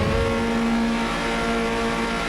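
A Formula Trainer race car in Automobilista 2 launching off the start line at Campo Grande, its engine droning steadily at high revs with a whining tone, loud and close with no talk.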